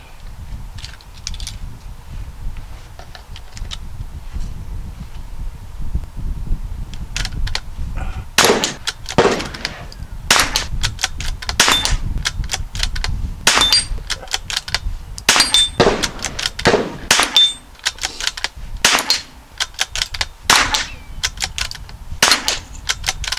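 A 22LR rifle fires at steel targets set at 50 yards, ranging from a 5-inch plate down to a 1-inch plate, with a string of sharp cracks at irregular intervals, several closely spaced, each followed by a faint metallic ping.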